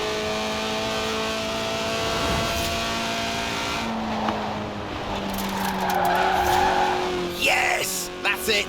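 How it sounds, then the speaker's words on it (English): Loud skidding and squealing tires from a car drifting in Forza Horizon 4, the engine droning underneath and rising toward the end, with the tire noise swelling in long sweeps. "The honourable art of drifting."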